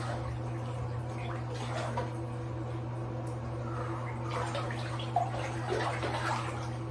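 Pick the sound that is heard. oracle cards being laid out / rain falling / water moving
water moving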